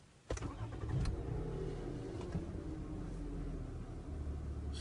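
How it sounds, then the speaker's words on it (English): A second-hand car's engine cranks and catches after a short silence, then settles into a steady idle close to the microphone, with no talking. "So let's start the car."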